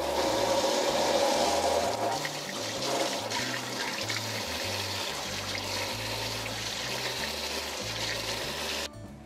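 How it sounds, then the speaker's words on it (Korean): Cold tap water running over salted onion wrapped in a cheesecloth during a Korean cooking exam prep for tartar sauce, a steady splashing gush throughout, with a rhythmic low musical backing underneath. "소금물에 담가둔 양파는 면보에 감싸 찬물에 헹군 뒤 수분을 제거해 주도록 하겠습니다."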